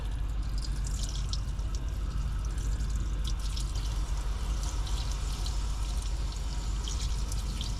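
A steady stream of lukewarm water poured into the radiator of a 1950 Dodge Meadowbrook, constant splashing and gurgling with a low rumble underneath, no talking.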